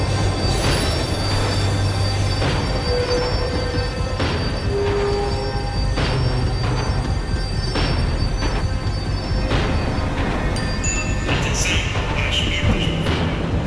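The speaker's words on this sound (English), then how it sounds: "The tram was slowing down, and I'd only just gotten on board" Tram in the video game Max Payne 3 slowing down, steel wheels squealing with high shrill tones over a constant heavy rumble and rattling clatter of the cars, loud and continuous throughout, no talking.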